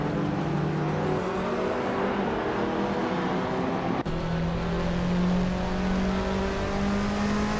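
1983 Porsche 911 930 Turbo race car engine droning steadily at high revs on a racing circuit, with a sudden gear change midway and the pitch climbing again afterward, loud and close throughout.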